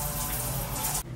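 Water runs steadily from a shower in a bathroom, a loud, continuous splashing rush that cuts off abruptly just before the end.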